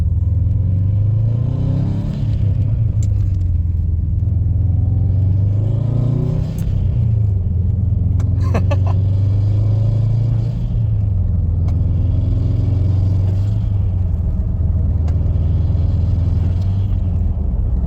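A Subaru STI engine with a new Cobb SF intake idles with a deep rumble and is revved repeatedly, rising and falling in several throaty surges, close by and loud, with no voices.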